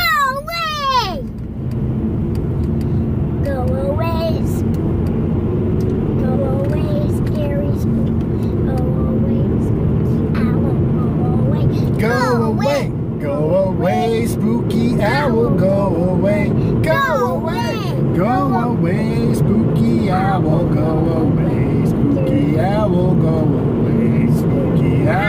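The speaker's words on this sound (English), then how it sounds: "It was a school bus." A school bus drives past, a loud steady vehicle roar lasting the whole stretch, with singing and chatter layered over it.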